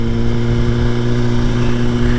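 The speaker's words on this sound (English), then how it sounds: "The engine braking in this thing is crazy." A Suzuki GSX-R1000 motorcycle engine drones steadily with a deep, even rumble, holding a constant low tone as the bike decelerates under engine braking.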